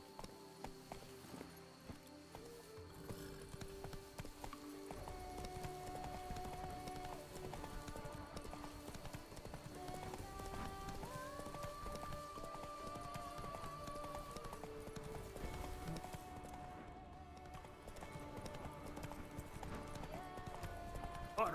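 Hooves of Roach, the horse in The Witcher 3, pound in a fast galloping clip-clop that continues without a break, set against steady orchestral game music and ambient sound.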